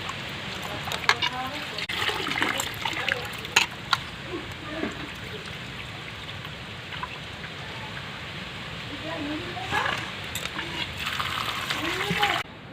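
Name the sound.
washing cut raw mangoes in water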